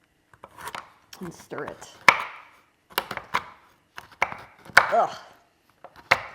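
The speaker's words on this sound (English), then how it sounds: "I'm going to chop that really fine" A knife chops a block of sugar-free chocolate finely on a cutting board, with sharp, uneven, close-up cuts. Someone talks briefly between the chops.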